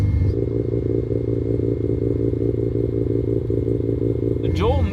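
Mazda FC rotary engine running steadily after sitting unused for 15 years, a loud continuous throb close by, with a brief voice near the end.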